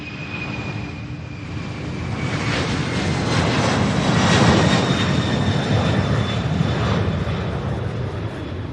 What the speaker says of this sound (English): Another MD-11 making its way over